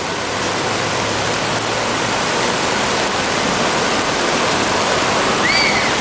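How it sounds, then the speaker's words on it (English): Floodwater rushing through a street in Mill Hill, a loud, steady, unbroken roar of churning water filling the whole clip up close, with no voices heard. "This is the flooding in Mill Hill right now."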